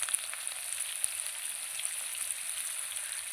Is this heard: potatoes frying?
yes